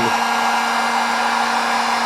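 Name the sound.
heat gun blowing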